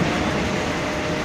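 Steady, loud rumble of a moving Indian Railways train heard from inside a coach, with continuous rolling rail noise and faint clatter and no talk.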